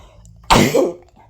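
A single sharp cough, close and fairly loud, breaking an otherwise quiet background before trailing off into a short rasp.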